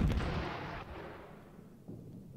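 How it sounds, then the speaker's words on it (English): Artillery strikes in the Panzer Campaigns wargame: a heavy booming blast rolls out and fades over a couple of seconds, followed by a softer second thud, loud and alone without speech. "Oh, we're hit by artillery here."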